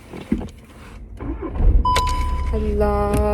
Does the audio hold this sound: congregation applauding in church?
no